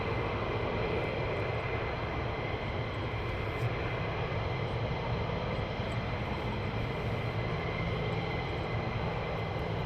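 A Saab Gripen military jet flying near RAF Lakenheath, a continuous loud, broad engine roar that holds steady without break for ten seconds, heard outdoors with no talk.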